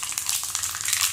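Mustard seeds crackle and sizzle in half a tumbler of hot sesame oil, a dense, steady frying hiss with fine popping throughout, close and continuous with no talk.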